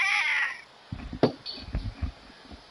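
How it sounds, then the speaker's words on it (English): A pet cat held up near the microphone gives one loud, drawn-out meow. Softer shuffling and low, indistinct noises follow. "you holding that cat up to the mic?"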